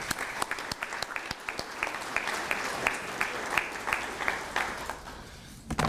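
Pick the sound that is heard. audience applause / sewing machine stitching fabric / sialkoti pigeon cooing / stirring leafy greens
audience applause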